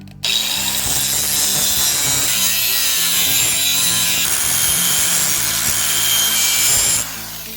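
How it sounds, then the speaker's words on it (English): An angle grinder sharpens a Honda lawn mower blade in a steady, loud abrasive whine with gritty metal rasping that runs near-continuously for several seconds before cutting off at the end. "when you run that grinder across there, you want to run it back and forth really quick"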